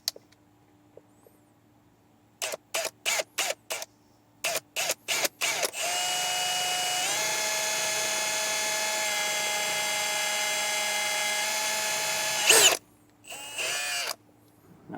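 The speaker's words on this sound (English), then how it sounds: "So now I'm going to be using a 3/8 drill bit, and we'll be drilling out the hole for our main unit to go through." A 3/8-inch drill bit bores a mounting hole for a brake controller unit on a 2024 Nissan Pathfinder. A few sharp clicks come first, then a loud, steady whining drill runs for about seven seconds and stops abruptly.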